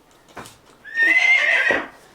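A horse gives a loud, close whinny lasting about a second, preceded by a faint soft thud.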